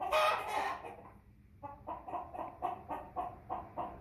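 An American Bresse hen gives a burst of louder clucking, then a short pause, then a steady run of soft, rhythmic clucks, close and quiet.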